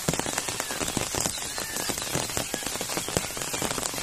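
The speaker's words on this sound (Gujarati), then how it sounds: "તો જબર પડે વરસાદ તો વહેલા 5 વાગ્યાનો ચાલુ હજી એ ચાલુ જ છે।" Heavy rain pours down steadily, a dense, loud hiss with close patter of drops hitting surfaces throughout, and no voices.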